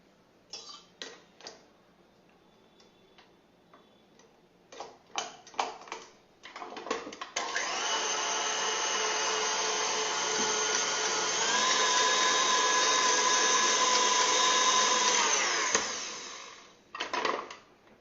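An electric mixer whips cream for a cake in a steady, loud run of about eight seconds, after a few scattered clicks and knocks, then cuts off abruptly.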